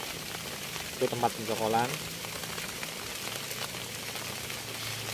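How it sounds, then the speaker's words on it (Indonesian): Steady rain falls in the rainy season, a soft continuous hiss running throughout while someone talks briefly over it. "Nah, ini cuaca hujan terus."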